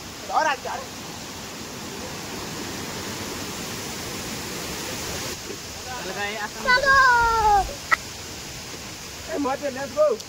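A waterfall at Kalinga Ghati pours in steady rain, a broad constant rush filling the whole clip, while voices speak briefly near the start and more often toward the end.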